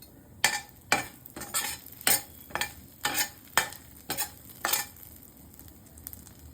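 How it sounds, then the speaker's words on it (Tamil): Whole spices sautéed in melted butter and oil, with bay leaf, dried chilli, cumin, cardamom, cinnamon and cloves, under a soft sizzle, punctuated by about eight rhythmic scraping strokes of a spoon against the pan. "பட்டரும் ஆயிலும் நல்லா வந்து மெல்ட் ஆயிடுச்சு. இப்போ வந்து ஸ்பைசஸ் பார்த்தீங்கன்னா பிரிஞ்சி இலை, காஞ்ச மிளகா, சீரகம், ஏலக்காய், பட்டை, லவங்கம் இது எல்லாத்தையும் சேர்த்து நல்லா வதக்கி விட்டுக்கலாம்."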